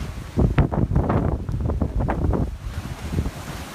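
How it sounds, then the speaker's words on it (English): Powerful hurricane wind from Hurricane Harvey roars and buffets the microphone outdoors in loud, continuous gusts with rough low rumbling and no break. "The wind's going to blow like crazy."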